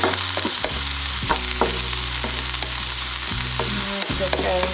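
Pepper sizzles and is stirred in a hot pan for vegan pineapple fried rice, a steady close frying hiss broken by repeated scraping stir strokes.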